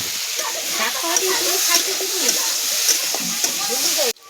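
Mushrooms frying and stirred in hot oil for an Odia mushroom curry, a steady close sizzle with scraping stir sounds, under a voice speaking.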